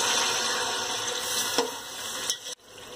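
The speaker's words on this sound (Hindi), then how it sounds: "हमें सब्जियां गलाने के लिए इसमें थोड़ा पानी डालना है।" Water pouring into a pan of vegetables while cooking moong dal khichdi, a steady broadband splashing rush running throughout at close range, with a brief clink near the end and no voices.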